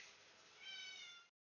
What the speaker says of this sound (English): my cat's meowing at them.